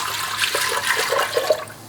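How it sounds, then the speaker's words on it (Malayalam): Thin third-press coconut milk, watery and yellowish, poured into a pressure cooker in a Kerala kitchen makes a brief, close splashing and gurgling trickle lasting a couple of seconds, with no voices. "3-ാം പാൽ കുക്കറിലേക്ക് ഇങ്ങനെ ഒഴിച്ചു കൊടുക്കുക"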